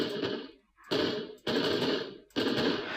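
An explosion cue from Unreal Engine starter content goes off in four loud, blasting bursts, each cutting off sharply before the next one starts.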